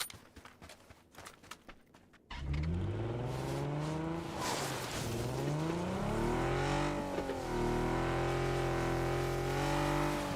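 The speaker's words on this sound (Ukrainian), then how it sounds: "Це крута машина, але її дуже носить. На снігу, блядь, неможливо нею керувати." A car in PUBG drives on snow on the Vikendi map, its engine roaring up and sweeping in pitch as it accelerates, after a couple of seconds of scattered light clicks.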